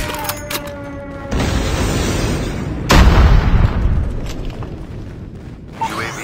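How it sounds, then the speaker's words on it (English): Friendly airstrike explosions in a Call of Duty match, heavy booming blasts arriving in a loud sustained rumble with a second big impact midway, close and forceful. "Friendly airstrike incoming."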